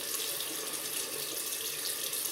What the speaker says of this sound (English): Just going to add a touch of water.